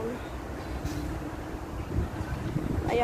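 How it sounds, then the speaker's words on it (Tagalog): Strong, rainy wind roars and buffets steadily against the microphone, a dense rumbling gust noise throughout, with a voice faintly underneath. "Medyo maulan po ang lakas po ng hangin"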